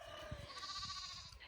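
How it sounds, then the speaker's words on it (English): Fourteen-year-old retired dairy milk goats bleat in a drawn-out, wavering call, close and fairly clear over faint low rustling, with no voices. "They are retired dairy milk goats."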